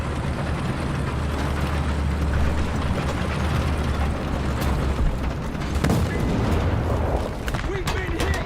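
In War Thunder, a tank takes a shell hit, with a heavy booming impact and metallic crash rising over a constant loud engine rumble, followed by a few sharper bangs near the end.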